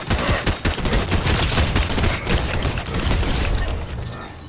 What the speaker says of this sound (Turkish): Ama keskin düşünden daha iyi bu, bu silah daha hızlı sıkıyor.